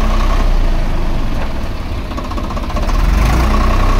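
A Swaraj 855 tractor with an ABC gearbox runs steadily through a gear speed test, its diesel engine producing a loud, continuous low rumble that dips slightly midway before swelling back up.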